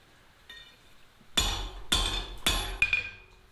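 Hot steel struck on a forge anvil to draw out a taper: a faint tap, then four sharp ringing hammer blows in a steady, close rhythm, loud and clear with no talk.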